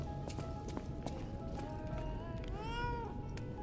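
A cat meows within the video game Lies of P, a rising harmonic call near the end over steady background game noise and footstep-like clatter, with a voice speaking earlier.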